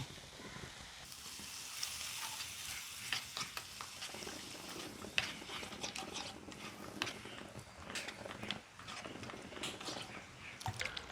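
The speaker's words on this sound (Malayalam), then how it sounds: "ഇതിലേക്ക് കുറച്ച് വെള്ളം ഒഴിച്ചു കൊടുക്കാം" A pan of curry sizzles and bubbles steadily after a cup of water is added, with occasional clinks and stirring noises over a constant frying hiss.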